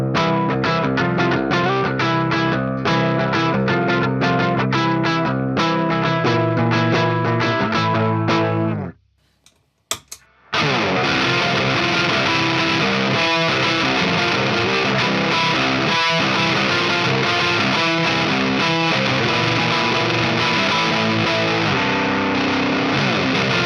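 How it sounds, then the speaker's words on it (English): Electric guitar chained through Pylo Rat and ProCo RAT distortion pedals, loud and heavily saturated riffing that cuts to near silence for about a second, then returns with a thick, fuzzy sustained tone. "I want to try running the Pylo Rats into the Proco Rat and see what sort of tones I can get out of it."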